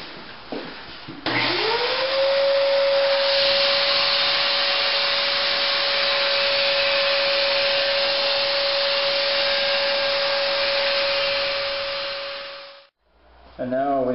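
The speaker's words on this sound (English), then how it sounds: "I'm going to use a used 320 grit belt to get an edge" A belt grinder runs with a used 320 grit belt, putting an edge on a knife blade: one long, steady, loud whine that starts abruptly, holds for about eleven seconds, then winds down, with no talk.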